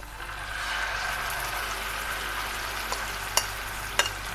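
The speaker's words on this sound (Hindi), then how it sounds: "अब आंच को स्लो करके इसके अंदर हम ये चिकन डालेंगे।" Chicken frying in a pan over low heat with cumin seeds: a steady, even sizzle throughout, broken by a couple of brief sharp pops near the end.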